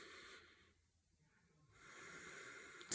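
A slow inhale drawn in through one nostril with the other held closed, as in a calming breathwork exercise; a soft, close airy hiss fades in, pauses, then swells into a longer breath.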